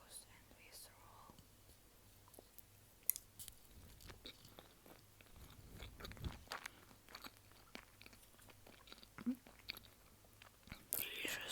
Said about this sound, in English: And I will eat this with miso sauce, my favorite sauce.